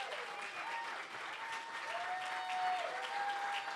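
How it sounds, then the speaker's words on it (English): An audience at an awards and closing ceremony applauds steadily in a big round, a dense, even wash of clapping heard from a distance under light music tones. "we give a big round of applause to Fanny and Etienne"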